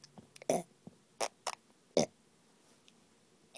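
A handful of short, abrupt burps in quick succession, close and fairly loud, separated by near-silence with faint small sounds between them.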